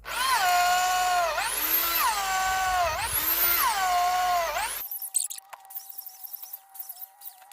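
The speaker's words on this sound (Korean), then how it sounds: "충전 드릴보다는 이 전기 드릴이 이게 낫습니다" A corded electric drill fitted with a 12.5 mm oyster mushroom spawn bit bores into a log. It gives a loud, close whine that rises and falls in pitch across several pushes, then cuts off abruptly and leaves scattered quiet clicks and handling noise.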